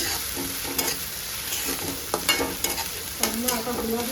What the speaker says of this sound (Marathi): कांदा आता गुलाबी होईपर्यंत करतो.